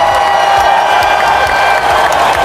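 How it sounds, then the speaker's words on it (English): A school celebration assembly audience applauds, a dense, loud, continuous wash of clapping from many hands with some cheering mixed in, sustained without pause throughout. "Let's give them a big Newton round of applause."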